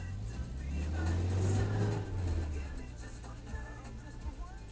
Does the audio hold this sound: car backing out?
yes